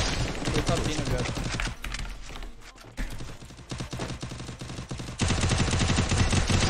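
Rapid bursts of automatic gunfire in the battle royale video game Free Fire, dense and loud throughout with short pauses, mixed with game sound effects.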